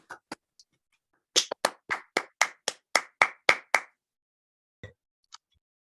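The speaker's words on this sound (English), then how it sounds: "let's briefly unmute ourselves and applaud for Hubert" A handful of people in an online meeting clap after unmuting, a few scattered early claps followed by a quick run of about a dozen sharp, close hand claps, then a couple of stray claps trailing off.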